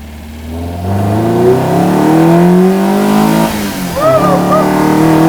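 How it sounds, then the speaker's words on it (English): A Miata-engined Datsun revs hard at full throttle, a loud, close, rising engine roar that holds steady for several seconds, briefly dips, then climbs again. "it was full throttle, but I didn't rev it all the way up"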